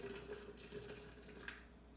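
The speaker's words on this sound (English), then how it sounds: "I'm going to pour my water in." Hot water running and splashing into a pitcher while making Southern iced tea, a steady close liquid pour with no talk.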